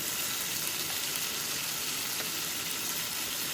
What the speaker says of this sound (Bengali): এখন আমি এই যে টমেটো আর ক্যাপসিকামগুলো দিয়ে দিচ্ছি।